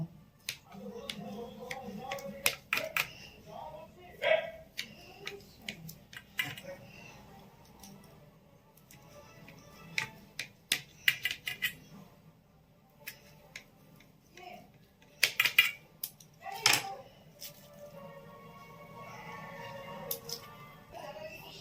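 Knife slicing through almond sandesh topped with cashews, making scattered crisp clicks and taps as it presses down onto a board and is pulled away, with a voice speaking quietly in between.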